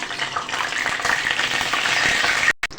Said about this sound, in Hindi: इतना सा मैं साबुत हींग डालूँगी, और इसके अंदर डाल के इसको जला लूँगी तेल के अंदर